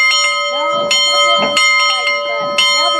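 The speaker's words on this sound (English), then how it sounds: "with the help of a rope, visitors can now ring the bell on number 1." A locomotive's bell, mounted on its water tank and rung by pulling a rope, clangs repeatedly in loud, uneven strokes with a long ringing tone sustained between them.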